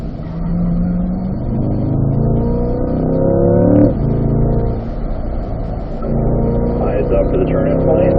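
Chevrolet Corvette C8 accelerating on a race track during a performance driving school session, the engine droning loud and close with rising and falling pitch through gear changes, and a voice talking over it.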